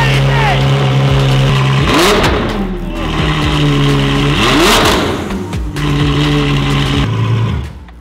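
A Ferrari F12 with a newly installed loud aftermarket exhaust revs hard three times, each blip swelling and falling back to a rumbling idle, close and very loud.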